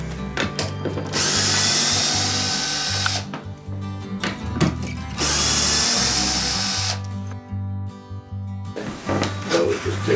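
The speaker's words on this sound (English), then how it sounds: "I'm going to use an electric screwdriver with a square drive bit to open the box" An electric screwdriver with a square drive bit whirs in two long bursts of a few seconds each, with short clicks and handling noise between them, opening a shipping box for a black walnut dining table.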